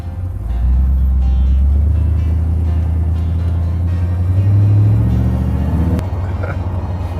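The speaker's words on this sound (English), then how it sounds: "the car runs and drives so smooth" A chopped hot rod car on a road test drive, heard from inside the cabin as a steady, loud engine rumble and road drone that swells briefly midway, with no talking.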